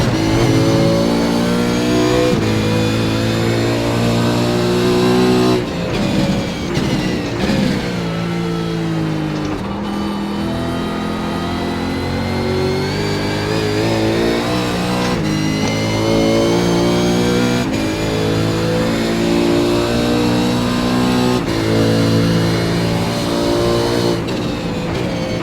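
A V8 race car engine screams through a hot lap of the Okayama full circuit in the iRacing simulator, revving high and loud with repeated gear shifts, lifts and re-accelerations, steady and close with no talking.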